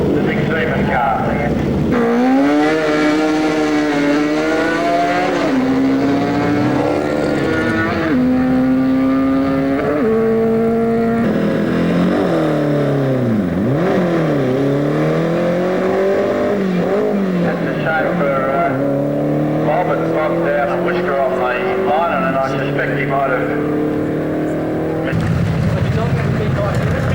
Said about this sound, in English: John Kennedy now having a run in the big Seaman car.